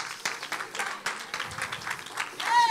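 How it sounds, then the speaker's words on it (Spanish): A church congregation breaks into applause, a dense wash of clapping that rises toward the end while a voice carries on over it. "Los aplausos son peligrosos"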